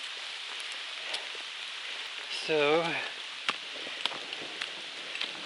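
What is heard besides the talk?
light rain falling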